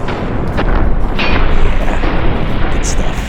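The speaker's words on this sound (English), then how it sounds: "Pretty sick explosion." A rocket explosion from the zombie game 7 Days to Die is replayed in slow motion, a long, continuous, loud rumbling roar with crackling debris and no clear break throughout.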